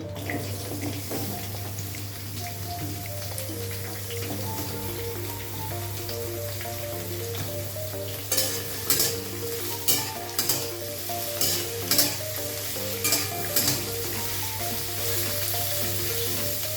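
Potatoes and onions fry in oil with black cumin, a constant loud sizzle under a low steady hum, then a run of sharp rhythmic scraping taps of a spatula against the pan near the end.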